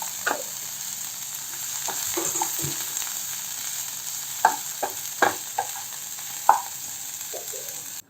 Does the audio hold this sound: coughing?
no